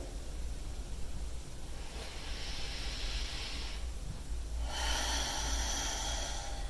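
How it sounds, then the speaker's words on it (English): Slow, deep breaths during a yoga session, an airy inhale followed by a longer, louder exhale that swells in hissy breath noise, heard up close against a steady low background hum with no talk. "One more deep breath here"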